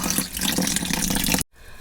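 Running tap water pours onto a signed Liverpool football shirt, a loud, close, steady gushing that cuts off abruptly near the end, leaving quiet room tone.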